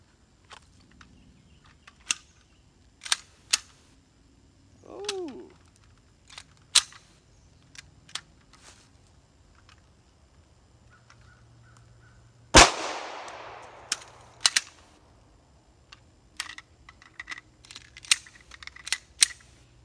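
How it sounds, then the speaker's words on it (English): Rounds fired from a Glock pistol using ETS and Magpul magazines: a string of sharp, isolated reports spaced irregularly across the stretch, with one louder, longer blast near the middle and quiet gaps between shots. "I'm just going to shoot up the rest of the rounds on these"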